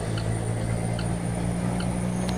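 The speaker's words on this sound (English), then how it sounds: "I think it sounds just like a real cat engine does." A steady, low diesel engine drone rumbles continuously at an even pitch, with faint higher tones and no talk.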